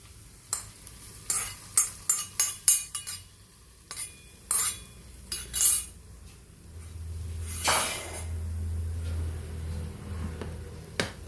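Jackfruit mixture is poured into unniyappam batter and stirred, giving a series of sharp clinks and scrapes of a spoon against the bowl, then a soft pour and a continuing sizzle-like hiss.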